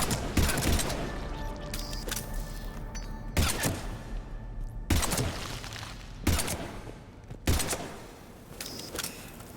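Pistol fire in Mass Effect 3 cracks out in several sharp, loud bursts a second or so apart, each ending abruptly, over a steady combat background.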